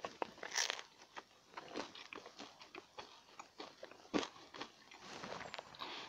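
Someone bites into a crunchy fresh bread roll topped with a thin layer of cheese, followed by repeated close crunchy chewing, fairly quiet, with insects buzzing outdoors.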